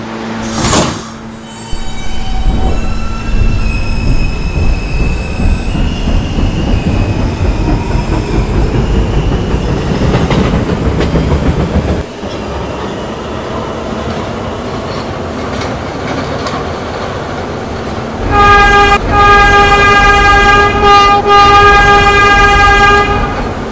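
A New York City R160 subway B train rumbles and clatters along the tracks, loud and close, with wheel squeal and a brief horn toot near the start, and a tonal hum toward the end.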